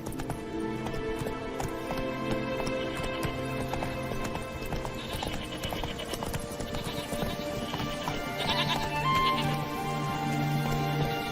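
Horse galloping in The Witcher 3 video game, a steady clip-clop of hooves with an occasional whinny, running continuously over layered game music and ambience.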